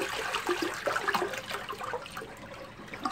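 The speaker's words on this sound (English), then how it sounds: "Turn the water off and flush the toilet and hold the lever." A mobile home toilet flushes with its lever held down during winterizing, giving a steady rushing, gurgling drain of water from the tank that carries on for several seconds with nobody talking.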